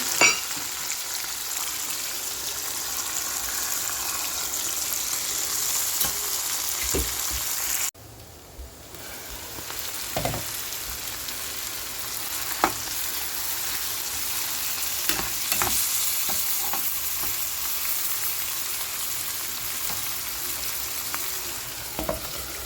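Spice paste sautés in a pan for prolonged stretches of sizzling, with intermittent scrapes and knocks from stirring and a brief dip in the hiss around the middle, all close and without speech.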